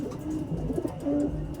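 A racing pigeon coos softly a few times, low and close, over a muffled outdoor background with no talking.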